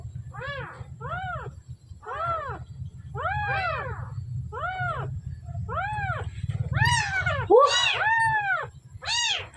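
Newborn kittens meow in a run of high, rising-and-falling cries, about a dozen calls in quick succession, some overlapping, over a low rumbling background.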